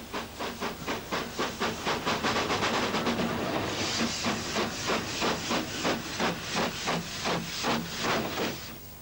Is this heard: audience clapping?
no